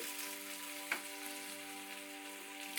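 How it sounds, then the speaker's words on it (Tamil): Sliced onion sautés in a pan for a green pea kurma, a faint, steady sizzle with one brief clink partway through and no talking. "இது லைட்டாக வதங்கும் போது இங்கே பாருங்களேன்"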